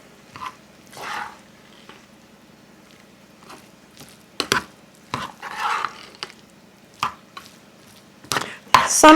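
Cooked white rice and vegetables are stirred together in a bowl, giving scattered soft scraping and clinking noises of a utensil against the dish, mostly quiet with a few sharper knocks near the end.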